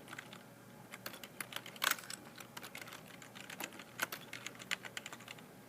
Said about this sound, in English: We can also type in a little comment.